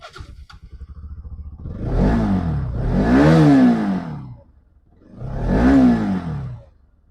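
A 2021 Bajaj Pulsar NS200 FI ABS motorcycle idles briefly with a ticking clatter, then its engine revs up loudly three times, two long swells close together and a third after a short drop back to idle, close by.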